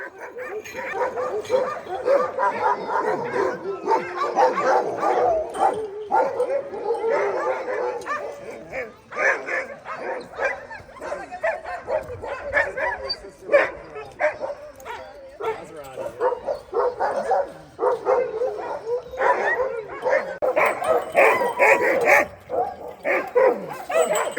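Alaskan husky sled dogs at a kennel bark, yip and whine excitedly in a dense, continuous chorus, some close and some farther off, with a voice talking over the racket.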